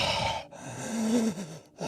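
A voice imitates a haggard, deep creature breathing: two ragged, raspy breaths in and out, close and fairly loud, with a throaty rumble through the middle.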